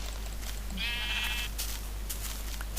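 A single sheep bleat rises clearly over a steady low background hum in a Minecraft-style video game, short and fairly close, with no talking.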